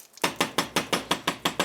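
Frozen homemade breakfast sandwich with ham tapped on a hard surface, eight sharp, evenly spaced knocks in quick succession, close and fairly loud.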